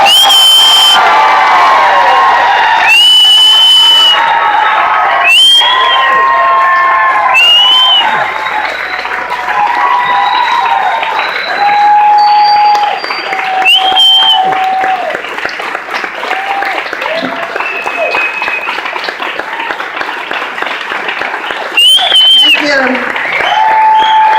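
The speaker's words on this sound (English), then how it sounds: "please make as much noise as you can for the icon, Dolores Huerta" A large crowd at a talk claps loudly and cheers with whoops and shouts for Dolores Huerta, sustained throughout, with voices calling out over the applause.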